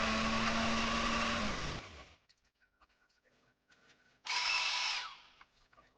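A bullnose cutter on a power tool cuts a cherry wood rosette blank, a loud steady whining grind that winds down and stops, followed by quiet clicks and a second loud burst of cutting.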